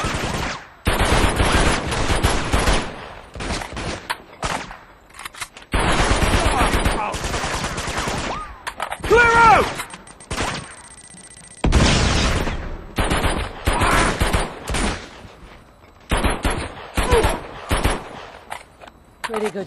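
Bursts of automatic gunfire in the Uncharted 2: Among Thieves video game, loud rapid volleys separated by short pauses, with occasional shouted voices between exchanges.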